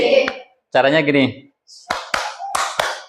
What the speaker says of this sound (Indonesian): Tepuk semangat, masih ingat?